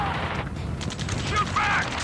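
Gunfire in the Ace Combat 7 ground battle: steady, dense rattling fire under shouted radio chatter, with clanking mechanical noise, in a continuous loud wash.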